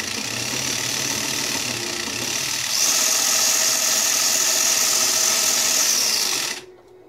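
A custom 4-link suspension vehicle's engine held at full throttle on stands, a steady loud mechanical whine that rises a notch partway through, holds, then cuts off abruptly near the end.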